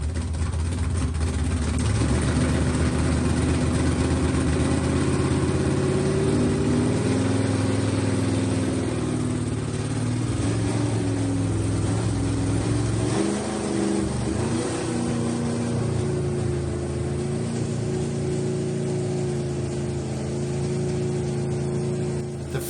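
An old Camaro dragster's poorly set-up engine runs on a dynamometer for its first pull after sitting about 20 years, a loud, steady, close roar whose pitch wavers and shifts midway through.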